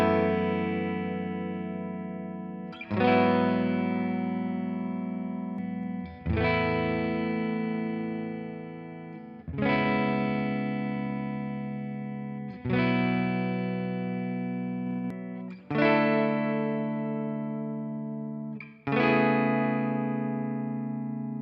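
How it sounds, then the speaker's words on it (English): Strandberg NX electric guitar played through the neck humbucker with reverb, a clean tone with seven strummed chords ringing out at a steady pace, each decaying into reverb tails, no talking. "let's activate a little reverb and let's see how that actually sounds. And let me go to the neck pickup as well"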